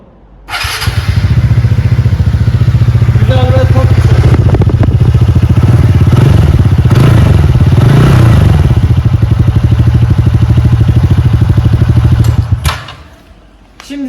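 A TVS Ntorq scooter engine starts up and runs loud and close at a steady, throbbing idle for about twelve seconds, then cuts off, with no voices over it.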